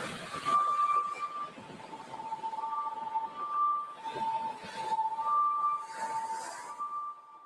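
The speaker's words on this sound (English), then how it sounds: "The wind racing with through the north wind, it creates the whistling." Wind whistles through the vertical bars of a pier railing, holding steady rising and falling tones that swell and fade in gusts over a constant airy rush.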